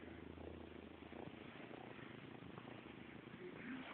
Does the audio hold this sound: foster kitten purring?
yes